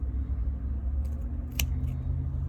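Scissors snip through a Portulacaria succulent stem: one soft cut followed by a sharper, crisp snip, close and clear over a low steady background rumble.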